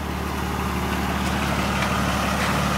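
A swapped BMW M3 engine idles steadily, a loud, continuous rumble with an even low throb and no talking.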